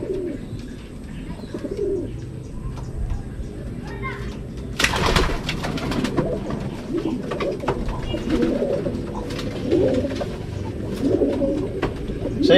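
Pigeons coo repeatedly in a loft, their low throaty calls rising and falling over a background of rustling, fluttering and scattered knocks.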